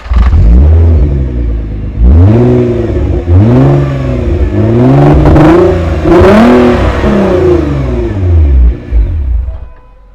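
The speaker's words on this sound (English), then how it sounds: "have the sound of the GTR come out" Nissan GTR R35 sports car revving up close outdoors, several loud rising and falling engine sweeps in quick succession with a deep rumble between them, with no voices.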